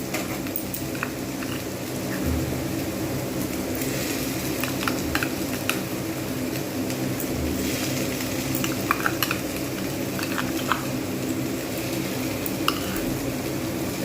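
Poppy seed and green chili paste sizzling as it fries in a pan, a continuous close hiss broken by occasional soft stirring scrapes and clinks, with no voices.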